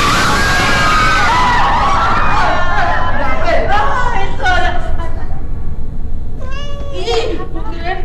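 Loud, dense noise with several voices talking at once, while high-pitched kitten mews cut through repeatedly.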